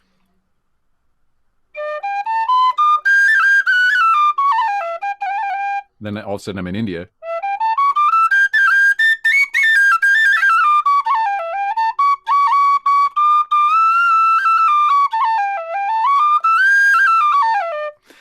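A bright, high tin whistle plays a lilting melody with sustained notes, interrupted briefly by a low buzzy sound, with a short spoken line partway through.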